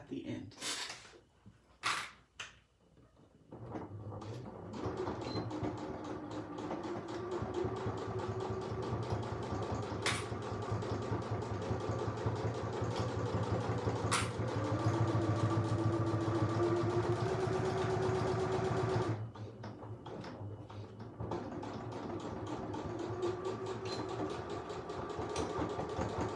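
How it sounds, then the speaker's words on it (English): Sewing machine stitching a coin purse just above the zipper, a steady low mechanical hum running for about fifteen seconds, stopping briefly and resuming, with light clicks at the start. "sew along here, just above that zipper, and sew down. Back stitching at the beginning and at the end."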